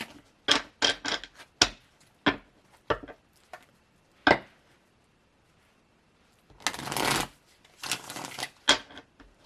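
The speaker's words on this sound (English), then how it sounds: "let's go ahead and dig into your tarot cards" Tarot cards handled and shuffled at close range, a run of crisp snapping taps and slaps followed by a pause, then longer riffling shuffles, with no voices.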